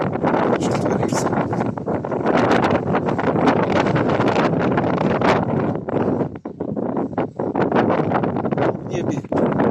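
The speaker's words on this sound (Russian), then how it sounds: "Это не полет, а борьба с ветром." Strong wind roars and buffets the microphone during a flight in gusty weather, a loud, unbroken rush with brief dips.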